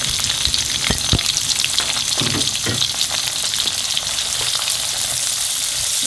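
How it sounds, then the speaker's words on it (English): Steady oil sizzle and crackle of onions frying with whole red and green chilies, continuous and close, with a few soft clinks of a utensil against the pan. "now you fry the onions till the onions are golden in color"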